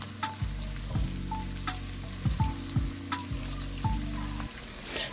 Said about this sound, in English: Once the oil is hot enough, we'll fry my onions until it is translucent.